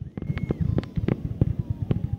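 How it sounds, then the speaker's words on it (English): Fireworks show over the pier at Myrtle Beach at night: a quick series of sharp pops and booming bursts in an irregular rhythm, some close and loud, others fainter, with crowd noise underneath. "I watch the free fireworks show over the pier."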